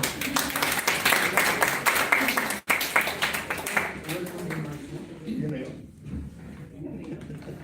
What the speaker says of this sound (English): Clap naman.